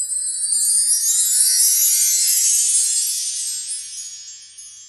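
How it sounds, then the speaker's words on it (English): Bar chimes sweep in a loud, glittering cascade of high metallic tinkles that shimmer for several seconds and gradually fade, alone and close. "bar chimes,"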